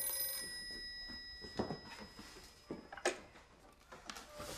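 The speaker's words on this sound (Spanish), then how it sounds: "contesta el teléfono" A telephone rings with a steady electronic tone, joined by a few clicks and taps in a quiet indoor scene from a Spanish-language drama.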